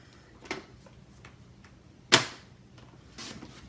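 Paper trimmer slicing pink cardstock to 5 1/4 inches for a handmade pull card, heard as one sharp, loud cutting stroke in the middle, with a few fainter taps and clicks before and a soft scrape near the end.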